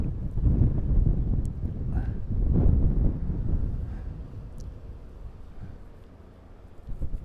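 Gusting wind buffets the microphone with low rumbling bursts that swell and fade, with faint rustling in the background.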